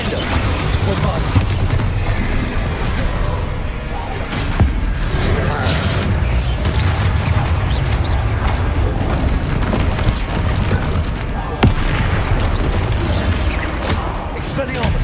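Bombarda and Confringo explosion spells blast in Hogwarts Legacy, with dense, booming impacts and crashes that repeat through a loud, continuous spell-casting fight while a voice talks over them.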